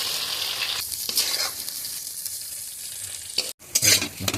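Marinated paneer sizzles steadily in a hot pan, a continuous close hiss of frying broken near the end by a brief stir and a louder crackle, with no voices.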